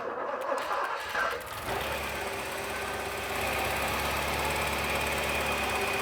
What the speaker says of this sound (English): the good news is the car started